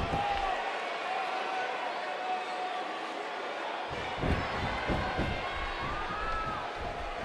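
A Seattle crowd at a WWE 205 wrestling arena cheers in a continuous dense roar throughout, with louder swells and scattered shouts near the end.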